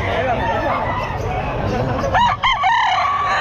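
A rooster crows close and loud at a busy pet market, its rising call cutting through the murmur of people talking nearby.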